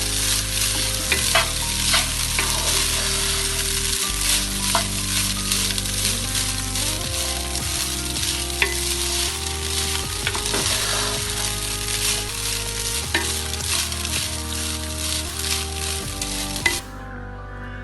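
Coconut rice being stir-fried in a pan, a steady sizzle with repeated scraping and clinking of a spoon against the metal throughout, close and continuous with no voices.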